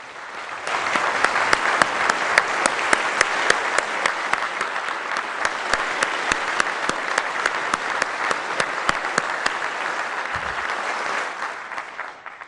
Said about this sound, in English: Reggie, please stand so that we can cheer for your hard work and for your bright future.